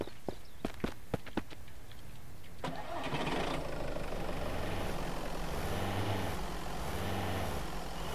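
A pickup truck's engine cranks and starts in the survival game Mist Survival, a few sharp clicks giving way to a loud, steady idling rumble that holds to the end.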